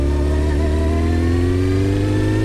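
A 1993 Honda CBR900RR Fireblade motorcycle engine revs, its pitch climbing steadily toward the high RPM range in a loud, close, continuous inline-four howl with no talking.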